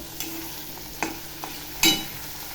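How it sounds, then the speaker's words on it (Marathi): Tomatoes being sautéed in oil with fried onion for a green pea and paneer curry, with a few spoon stirs and a brief louder sizzle burst over a quiet, steady frying hiss. "आता टॅमॅटो टाकते टॅमॅटो टाकल्यावर चांगलं असं परतून घ्यायचं"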